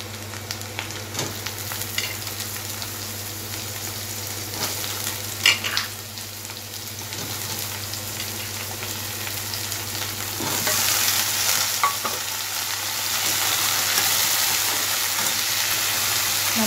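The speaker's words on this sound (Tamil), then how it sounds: "அதை நல்லா கிண்டுங்க." Ridge gourd frying in a pan, with a steady close sizzle and the scrape of stirring, occasional clinks of the utensil, and the sizzle growing louder and more hissing in the second half.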